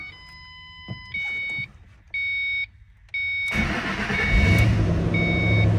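Door-open warning chime of a 2005 Ford Mustang GT, a loud repeating electronic tone sounding in three even bursts, after which the V8 engine starts up and idles with a steady rumble beneath further chimes.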